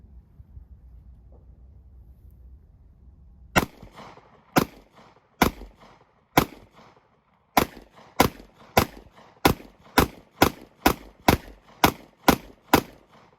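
A Smith & Wesson M&P 2.0 10mm pistol firing PMC Bronze 170-grain hollow-point rounds outdoors: sharp, loud cracks, several spaced shots, then a fast, steady string of about a dozen more.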